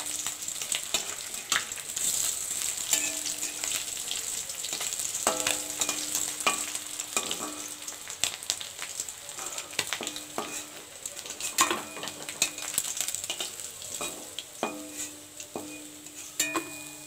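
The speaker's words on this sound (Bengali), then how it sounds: "ফিশ ফ্রাই করা হয়ে গেল এবার আমি এটা নামিয়ে নিচ্ছি" Sea fish frying in a pan, a steady close sizzle running throughout with occasional stirring and utensil clicks, no talking.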